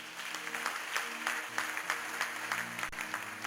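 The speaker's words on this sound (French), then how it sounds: "Est-ce qu'on peut acclamer le Seigneur notre Dieu?" A church congregation claps in praise of the Lord, a steady, fairly rhythmic round of applause from many hands at moderate distance, with a faint voice briefly audible.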